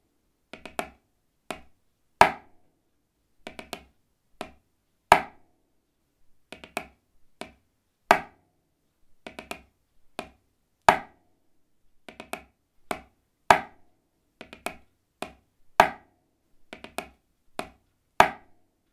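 A drum rudiment of right- and left-handed drags played on a practice pad or snare: sharp, crisp clusters of grace notes leading into accented strokes, repeating in an even pattern, close and alone.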